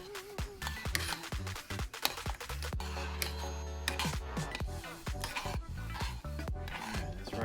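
Spoon scraping and stirring browned pork in a pan for biscuits and gravy, with repeated close scrapes and clinks over a steady sizzle and background music.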